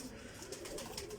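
Teddy pigeons, a prized colourful breed, cooing in soft repeated low throaty phrases that run steadily through the moment, fairly close over a light background hiss.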